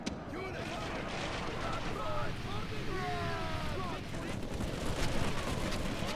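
Soldiers' gunfire in a LOTR Remastered video game battle, a dense continuous din of battle noise with whistling tones, constant throughout, with talk running over it.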